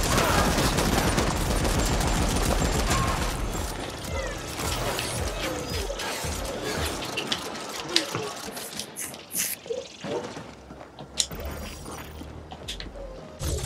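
Heavy shotgun gunfire from The Ascent video game, dense bursts of loud blasts and clattering impacts in the first half, thinning into sparser sharp shots and mechanical clicks later.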